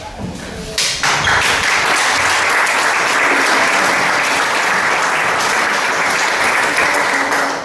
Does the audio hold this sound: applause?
yes